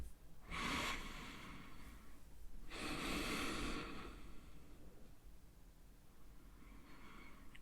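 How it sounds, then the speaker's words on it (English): A person lying on a mat in a rehab exercise breathes slowly and evenly in and out, with two long, close, breathy exhales heard clearly and softer breathing continuing after them. "And keep on breathing in and out. Nice, even, slow breaths."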